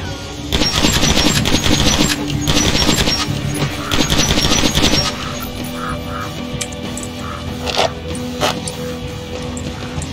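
Rapid bursts of gunfire as weapons are emptied of ammo in the video game Metro Last Light Redux, a dense loud volley for about five seconds, then scattered single shots and game ambience.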